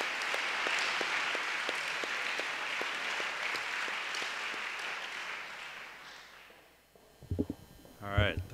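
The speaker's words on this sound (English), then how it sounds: "would you please give a round of applause to your mentors here at the Chicago Light Tutoring Program" An audience applauds tutoring program mentors in a sustained round of clapping that gradually fades out, followed by a few brief spoken words at the end.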